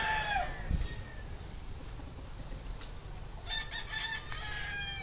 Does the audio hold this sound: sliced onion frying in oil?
no